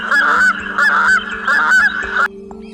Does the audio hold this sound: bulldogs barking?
no